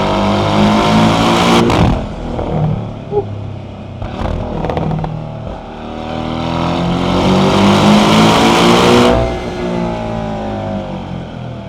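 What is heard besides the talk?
sports car engine revving on a canyon road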